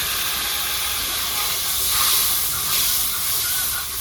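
Tomato paste sizzles and hisses in a hot pan with black cumin for a pabda fish curry, a steady, loud, close frying hiss with slight swells and no talking.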